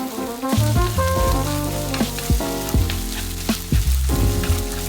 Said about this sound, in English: Pour in the beaten eggs, which will begin to cook immediately.